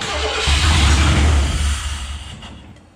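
A Chevy C/K 1500 Silverado pickup engine cranks and catches, a loud low rumble building then settling and tapering off over a few seconds, close by with no talking.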